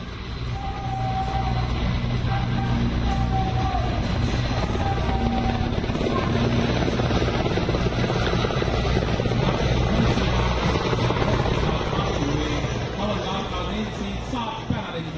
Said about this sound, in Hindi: इस दौरान आसमान में गरजते हुए विमानों ने अपनी ताकत का पराक्रम दिखाया।